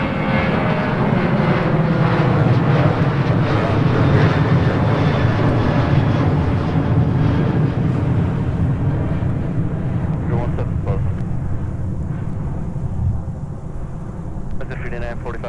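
A Sun Country airliner takes off at MSP airport on a muggy winter day, a loud, sustained jet roar that slowly fades, with radio talk over it.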